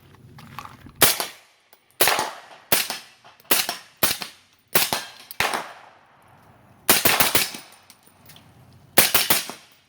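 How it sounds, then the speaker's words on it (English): Suppressed 11-inch short-barreled rifle firing subsonic 7.62x39 reloads, about fifteen sharp, clipped reports in irregular bursts and pairs, each with a short ringing tail, close and loud with no talking. "I'm gonna go shoot the 15 reloads since we got some accurate numbers here."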